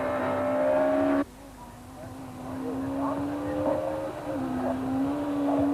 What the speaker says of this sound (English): Hannes struggles to control the Sentra, with blown front shock absorbers making the car's handling very difficult on this bumpy stage